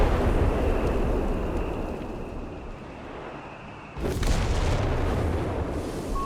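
Artillery shells from a Company of Heroes 3 barrage land in deep rumbling booms, with a sustained roar that fades and then swells again as a fresh impact hits.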